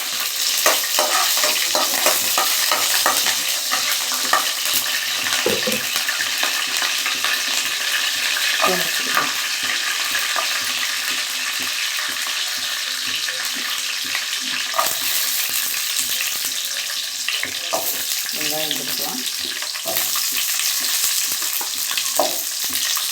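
Dried red chillies sizzle loudly in hot oil in a pan for a gourd chutney, with a steady bright frying hiss throughout and frequent scraping stirs of a spoon, close up and without talk.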